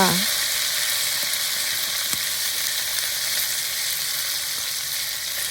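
Crispy pork stir-fried in a hot wok with dried chili, garlic and sauces sizzles loudly and steadily throughout, with a faint clink of the spatula near the start.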